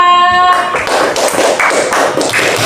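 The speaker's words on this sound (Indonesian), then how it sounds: "Terima kasih, kita kasih aplaus dulu untuk kelompok 4." Classroom applause for a student group: a short burst of many hands clapping together, loud and close, following a brief tone.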